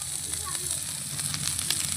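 Onion, green chillies, cinnamon, cloves and cardamom fry in hot oil in a steady, close sizzle and crackle for a moment.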